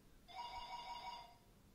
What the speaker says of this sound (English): That's an interesting ringtone.